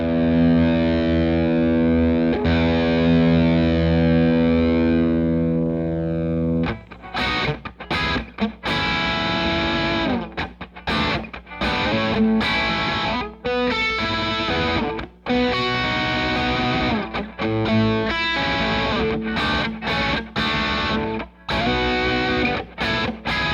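A heavily distorted electric guitar through a 5150 overdrive with high gain rings out with crunch: a sustained chord at first, then choppy palm-muted riffing with short gaps, loud and close.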